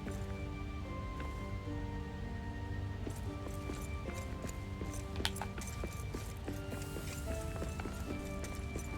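Steady hoof clip-clop of a goat walking in the game LOTR Return to Moria, close and continuous over a low ambient game drone, with no voices.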